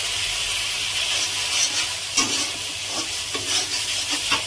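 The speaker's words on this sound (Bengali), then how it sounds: "এবার একটু ভালো করে নেড়ে নিলাম সবকিছু।" Spices frying in a pan being stirred, a steady sizzle with scraping stir strokes repeating through the clip, close and moderately loud with no talk.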